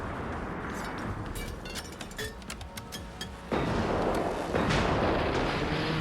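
Rockets blast a robot in the video game Generation Zero: a run of sharp, clinking shots and impacts, then two heavy explosions that swell into a loud, sustained roar.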